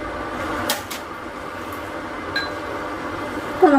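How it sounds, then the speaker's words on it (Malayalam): A lid goes onto a cooking pot of village-style green pea and paneer curry with added water, giving a few brief metallic clinks and clatters against quiet kitchen background. "നമുക്കിതൊന്ന് മൂടി വയ്ക്കാം"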